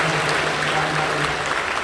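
A church congregation gives a short burst of steady applause to welcome newcomers. It is brief and fairly loud, with faint voices underneath.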